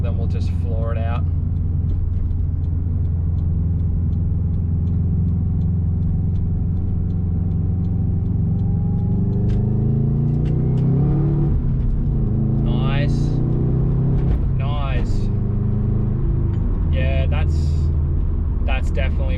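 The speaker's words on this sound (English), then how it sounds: "We'll go around the roundabout in second and then we'll just floor it out." 2008–2014 Subaru WRX engine from inside the car, a steady low drone that climbs in pitch as it accelerates hard in second gear out of a roundabout, with several bursts of talking over it.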